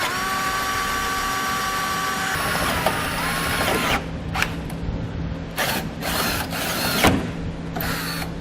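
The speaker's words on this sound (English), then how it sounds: "Using a 13/32 drill bit, I'm going to drill out the top back hole" A power drill bores a hole with a 13/32 bit into the frame of a 2015 Kia Soul while fitting a Blue Ox base plate, a whirring whine followed by repeated short bursts of grinding as the bit bites metal.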